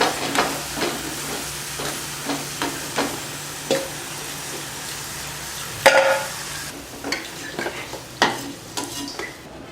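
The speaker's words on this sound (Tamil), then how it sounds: "நல்லா மொறுன்னு பொரியிற வரைக்கும் பொரிக்கணும்" Bitter gourd chips fry in hot oil with a steady bubbling sizzle, broken at intervals by soft scraping stirs and occasional sharper clatters, close and moderately loud.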